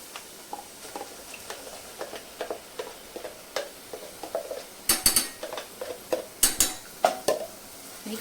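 Ground masala paste stirred into softened onions in a pan for mutton curry, heard as steady close clinks and scrapes of a utensil against metal, with a few louder knocks.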